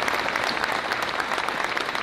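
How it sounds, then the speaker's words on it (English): Brisk applause from attendees at an organization's 157th annual meeting, a thick continuous patter of many hands clapping at moderate loudness for the whole stretch. "I just want to give them a round of applause for the work that they're doing"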